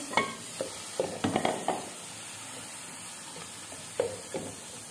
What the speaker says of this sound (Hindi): अब मैं इसके अंदर अपने चिकन का जो कीमा है ये डाला है मैंने।